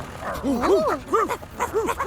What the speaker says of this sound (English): there were lots of dogs chasing the digger